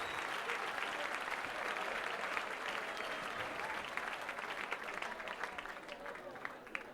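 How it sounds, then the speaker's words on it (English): At a charity dinner, a room applauds, a continuous, fairly distant round of clapping that holds steady for about seven seconds, with murmured voices mixed in. "Everybody give him a big round of applause"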